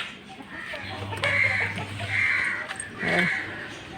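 Chickens cluck close by in a coop in several loud bursts, with a low steady hum running underneath.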